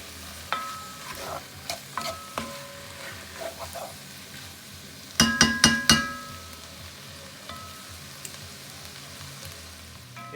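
Deer chili meat and onions sizzle in a hot pan while being stirred, with scattered scrapes and clatters and a louder burst of stirring in the middle, close and clear with no talking.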